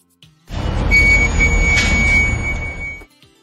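An anti-theft security antenna alarm at a store exit, triggered by an undeactivated tag, sounds steadily for a few seconds, a sustained high tone over a broad noisy hum, then cuts off.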